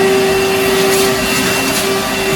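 A homemade cyclone dust collection system pulls up floor dust with a loud, steady roaring suction and a constant whine, close and alone without speech.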